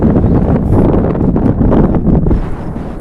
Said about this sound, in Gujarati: થોડોક પવન આવતો છે એટલે એડજસ્ટ કરી લીજો ને